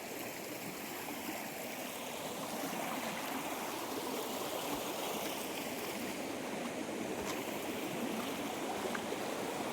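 Steady rushing of water flowing in a deep forest stream in the Seshachalam woods, a continuous close wash with no pauses and no voices.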